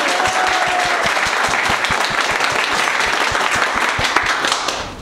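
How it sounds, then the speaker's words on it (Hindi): Loud, steady applause from an audience in a classroom during a mobile hardware course, with dense clapping sustained for about five seconds before tapering slightly at the end. "एक बार जोरदार ताली बजाइए हमारे अनिल के लिए"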